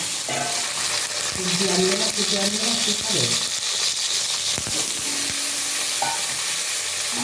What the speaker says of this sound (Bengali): ভেন্ডিটা ফ্রাই হয়ে গেছে তাতে নামিয়ে রাখবো ভেন্ডিটা ভাজা হয়ে গেছে